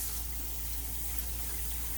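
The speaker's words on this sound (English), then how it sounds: "We're going to turn on our water." Water runs steadily from a sink tap during handwashing, a continuous broad rushing hiss at even loudness throughout, close by and with no voices.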